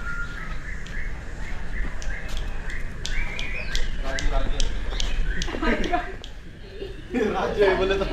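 Birds call from the aviary cages at Karnala bird sanctuary, repeated sharp chirps and calls at moderate distance over steady background noise, with a person talking at the end.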